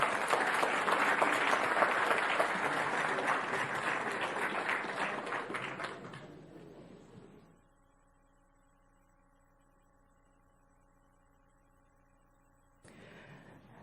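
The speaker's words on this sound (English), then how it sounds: "Let's give everyone a big round of applause." A school event audience applauds loudly and steadily for about six seconds as local elementary school honorees are recognized, then the clapping tapers off into near silence with a faint steady hum.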